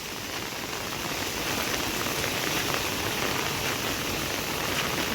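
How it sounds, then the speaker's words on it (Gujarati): Heavy rain pours steadily over Ahmedabad, a dense, even hiss of downpour on surfaces holding at constant loudness throughout with no voices. "ફૂલ વરસાદ છે અમદાવાદમાં, બાકાજીકી ફૂલ."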